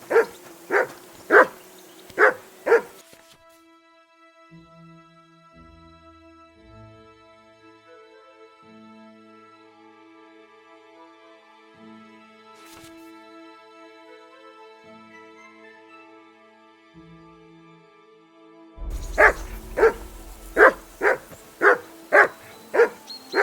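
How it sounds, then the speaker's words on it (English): Dog barking in the video game Kingdom Come Deliverance 2: a run of loud, evenly spaced barks, then a long quiet stretch with soft tones, then another rapid series of barks. "That barking was a pain in the ass."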